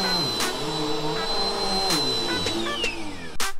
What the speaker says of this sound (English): I have to vacuum this floor before Daddy gets here.